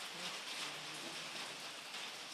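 Steady rain falls as an even, dense hiss of drops on surfaces, faint and unbroken throughout with no voices.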